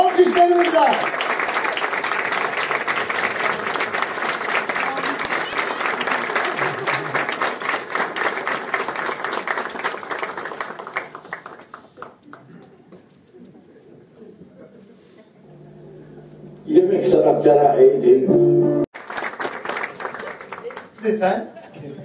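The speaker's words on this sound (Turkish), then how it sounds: "Alkışlarımızla!" An audience at a theatre awards ceremony applauds, with sustained loud clapping from many hands for about ten seconds before it fades. A later burst of noise and a voice follow.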